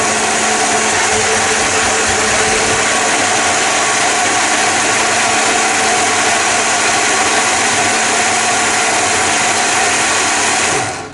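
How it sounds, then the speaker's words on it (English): A blender runs continuously, loud and close, churning a thick plum juice mixture, a steady motor whine lasting throughout and cutting off at the very end, with no talking. "put it in the blender."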